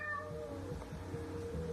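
A house cat meows indoors, one of two cats wandering in and out of a room; a single drawn-out, wavering meow is heard close by against a steady low room hum, with no talking.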